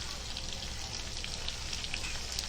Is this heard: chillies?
yes